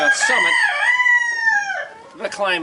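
A homegrown meat rooster crowing nearby, one long loud cock-a-doodle-doo followed by clucking.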